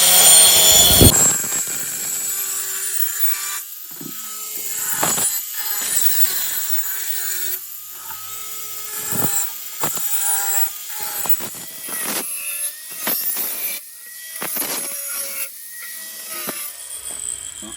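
An old metal drum being turned into a plant pot has its edge cut with a power tool, a steady grinding whine broken by repeated short bursts and scraping passes over about eighteen seconds, loud and close with no talk.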